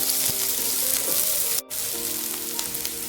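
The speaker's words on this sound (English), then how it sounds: "In the same pan, I'm going to cook our chili sauce. So I will put together the garlic and onion." Garlic and onion frying in the same pan for a chili sauce, a loud continuous sizzle with a few faint scrapes and a momentary dropout midway, no speech.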